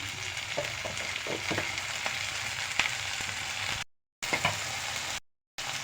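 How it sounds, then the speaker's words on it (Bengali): Onion and garlic paste with spices frying steadily in a pan, a continuous close sizzle broken by occasional stirring scrapes and two brief silent gaps, with no talking. "পেঁয়াজ রসুন বাটা পেঁয়াজ বাটা এটাকে আমি ভালো করে কষিয়ে নেবো"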